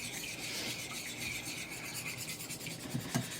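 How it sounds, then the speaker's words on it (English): A whisk scrapes steadily through a thick milk and cheese sauce in a pan, a close, continuous rasping swish with quick rhythmic strokes and no talking. "So you just want to whisk this together until it's as smooth as you can get it."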